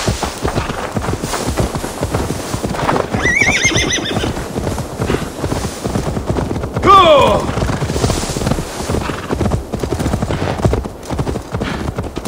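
A horse neighs and whinnies in Assassin's Creed Valhalla over a steady clip-clop of hooves and busy game ambience, with a second shorter whinny a few seconds later.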